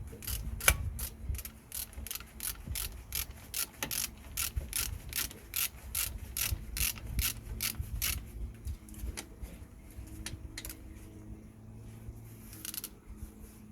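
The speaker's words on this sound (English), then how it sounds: "Just gonna tighten the bolts now." A ratchet wrench clicks rapidly and steadily while tightening the front brake caliper bolts on a 2016 Toyota Verso 1.8 VVT-i, close up, the even ticking slowing and thinning out toward the end.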